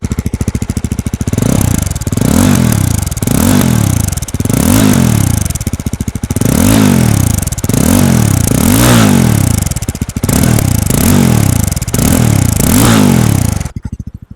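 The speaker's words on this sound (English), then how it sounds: "तो चलिए बाइक को करते हैं स्टार्ट एंड आपको सुनाते हैं इसकी आवाज़." A Yezdi Roadster motorcycle (2026) engine runs close and loud, with repeated rising and falling revs in a steady rhythm and popping exhaust crackle between throttle blips, cutting off abruptly at the end.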